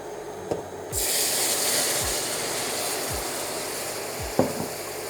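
Broth poured gradually into a hot pan sets off a steady, close hiss and sizzle that swells in about a second in and holds, with a few soft knocks and scrapes along the way.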